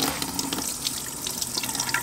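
Hot water runs steadily from the faucet of a 2021 Coachmen Beyond 22RB Ford Transit camper van, a continuous close splashing stream into the sink with no talk.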